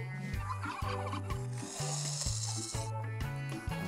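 A turkey gobbles in the zombie-survival video game Last Day on Earth, in a forest area. A series of loud, rapid gobbles repeats steadily throughout, close and dominant, with no talking.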